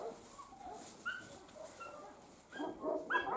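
Hungry Alabai (Central Asian Shepherd) puppies whimper, yip and bark close by, several high cries overlapping and growing busier toward the end.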